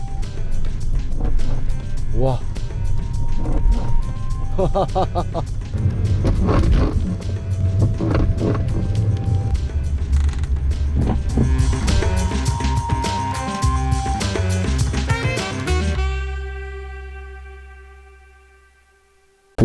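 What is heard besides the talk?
squeaking underbody noise of a 2012 Volkswagen CC diesel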